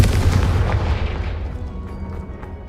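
A Confringo explosion spell in Hogwarts Legacy goes off as a loud, deep boom that rumbles and slowly fades over a couple of seconds, heard alone without talk.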